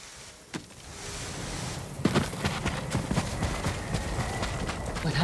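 Horse hooves clip-clop in the Ghost of Tsushima video game, a steady run of hoofbeats over ambient noise, moderately close.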